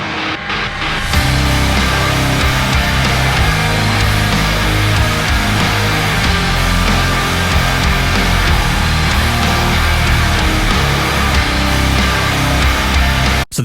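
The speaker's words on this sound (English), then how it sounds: "how I make a shoegaze track that sounds like this" Heavy shoegaze rock: a dense, loud wall of distorted guitars, thick low end and drums that plays continuously without any voice over it.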